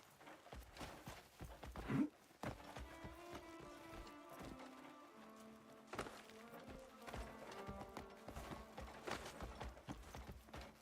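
Horse hooves clip-clop in the open-world game Crimson Desert, a steady walking rhythm of light hoof strikes with some creaks and rattles, quiet and without speech.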